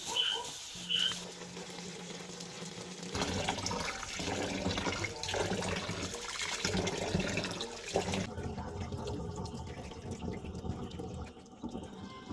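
Rice being washed in water to make rice wine, with steady splashing, swishing and trickling water close by at low volume and no talking.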